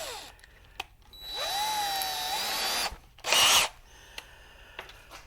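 A power drill undoes screws on a Giandel 5000 watt power converter: a whirring spin-up that runs for over a second, then a shorter, louder burst, with small clicks and handling noises around them, close by.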